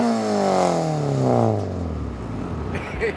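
A Spoon-built Honda Civic EG6 with a VTEC engine revs hard nearby, its high engine note sweeping down as the revs drop and settling into a lower, rougher tone, with no talking.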